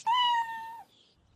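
A cat gives a single clear, drawn-out meow, close and fairly loud, that fades into near silence.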